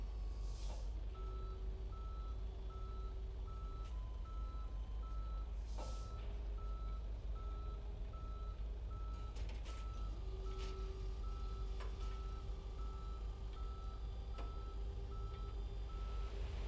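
Tow truck reversing beeps ring out steadily in the Police Simulator video game, a regular pulsed beeping over a constant low engine idle, with a few brief air-brake hisses and clanks between the beeps.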